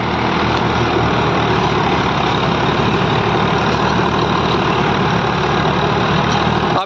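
Massey Ferguson 8055 and 245 tractors run side by side, their diesel engines giving a steady, loud, close drone with no clear break, while one driver shifts gear on the 8+2 gearbox.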